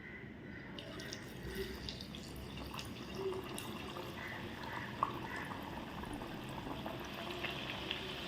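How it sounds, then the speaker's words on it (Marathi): A steady crackling sizzle of bhajani vada frying in hot oil, continuous and close, with faint drips and small pops. "आता ह्या तापलेल्या तेलात मी तळण्यासाठी वडा सोडते"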